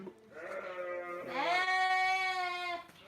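A lamb in a pen gives a couple of clear, close bleats, a short call followed by a longer wavering one, with no other sounds over it.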